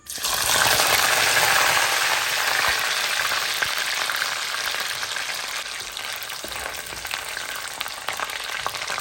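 Curry leaves and chopped aloe vera stem drop into hot oil and fry with a loud, close, bubbling sizzle that starts abruptly and then settles into a steady crackle.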